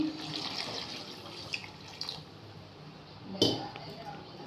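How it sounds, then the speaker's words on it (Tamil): Water splashes and trickles into a metal cooking pot for beef curry, with a few clinks and a louder splash near the end; faint talk in the background. "தண்ணி ஊற்றிக்கலாம்."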